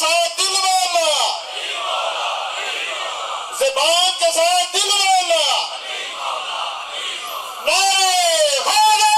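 At a religious gathering in Saroki, Gujrat, a large crowd bellows the Naara-e-Haidari slogan in unison: loud, drawn-out collective shouts in three surging waves, with someone speaker's voice between the chants.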